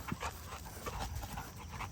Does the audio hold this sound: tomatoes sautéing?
no